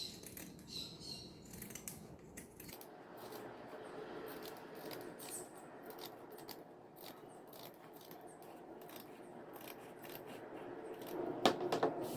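Scissors snip notches into the seam allowance of a sewn fabric piece, quiet crisp cuts repeating irregularly with no talking.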